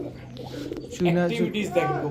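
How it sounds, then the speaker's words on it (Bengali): Pigeons coo in low, throaty bursts, fairly close, with a steady hum beneath and faint chirps mixed in. "কবুতর তো ডাকতেছে আছে"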